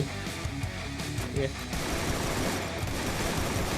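Gunfire from the Free Fire video game rattles continuously in rapid bursts, loud and dense, turning into a heavier, busier barrage partway through.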